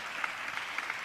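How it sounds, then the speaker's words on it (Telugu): A church congregation claps in praise, a brief burst of steady, moderately loud clapping with a few sharper individual claps. "చప్పట్లు కొడుతూ స్తోత్రాలు చెప్దాం."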